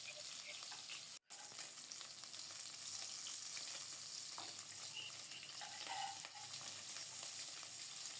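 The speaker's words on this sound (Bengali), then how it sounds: "তেল ভালো করে গরম হলে ডিমের পিসগুলি দিয়ে দিলাম" Pieces of boiled egg fry in hot oil and give a steady, soft sizzle with faint crackles and some stirring, no voices, broken only by a brief moment of silence near the start.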